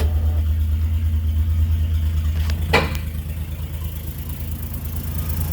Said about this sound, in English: The engine runs good. Doesn't appear to have any leaks.